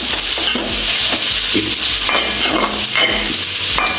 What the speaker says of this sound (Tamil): அடுத்து இதை போடுவோம், கேரட்டை. நல்லா கிளறி விடுவோம்.